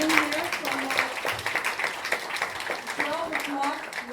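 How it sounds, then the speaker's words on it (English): Audience clapping at a university conference plenary session, a dense, steady patter of many hands lasting several seconds, with voices mixed in underneath. "give yourselves a big round of applause"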